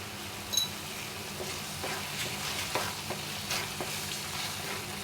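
Taro greens with salt and ground cumin are sautéed in a pan, producing a quiet, even sizzle with occasional soft stirring scrapes and light taps.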